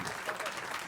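Applause from the audience at a francophone manuscript day ceremony forms a brief, steady wash of clapping, fairly faint and even throughout with no distinct individual claps standing out.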